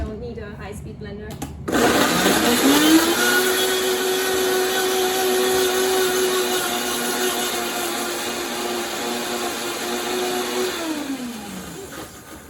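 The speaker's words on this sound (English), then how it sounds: "just the mangoes in your Vitamix or any other blender because it's really, really easy to blend." A Vitamix blender whirs loudly as it purees mangoes, a steady motor drone that rises and holds for around ten seconds before winding down near the end.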